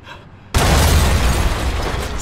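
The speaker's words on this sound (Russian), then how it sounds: "Серьезно, взрыв!" A sudden loud explosion sound effect bursts in after a half-second of quiet, then rumbles and crackles as a broad, sustained roar that holds for nearly two seconds.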